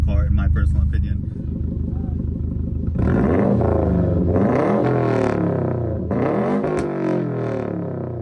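A 2017 Subaru WRX STI with straight pipes idles with a loud, throaty burble, then blips through several sharp revs that rise and fall close by.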